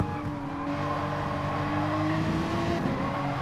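A Porsche race car in GT Sport powering out of a corner, its engine drone rising steadily in a sustained tonal whine, loud and continuous with faint tire noise beneath.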